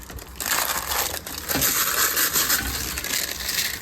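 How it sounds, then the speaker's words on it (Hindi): Polythene wrap being pulled off a frozen thepla flatbread in a home kitchen, a steady crinkly rustling and crushing of plastic, fairly close and continuous, with a brief dip before resuming. "मुझे बस इसको पैक हटा के, जो पॉलीथीन है ना, इसको ऐसे रिमूव करना है"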